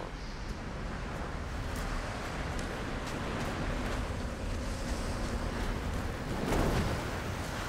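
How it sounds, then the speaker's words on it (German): Steady howling wind in the Tomb Raider video game, a continuous broadband rush with a slight swell near the end, moderately quiet and unbroken by speech. "Hier ist es sehr windig."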